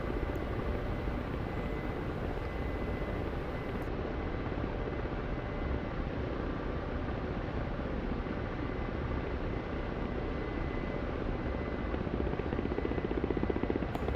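A Ka-50 Black Shark helicopter flies over Haifa in the DCS combat flight simulator, its rotor and turbine drone holding steady and loud for the whole stretch with no speech over it.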